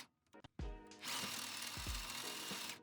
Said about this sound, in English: Now I'm just re-drilling out the holes to put the crush tubes in to support the bumper.